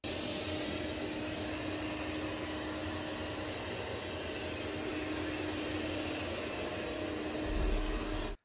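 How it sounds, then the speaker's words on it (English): A steady, close whirring hum of a SEGOO Rotopus M2 robot vacuum running continuously at its highest power on carpet, with a broad hiss and a faint low rumble, then stopping abruptly. "I did run this robot vacuum at its highest power level for this test"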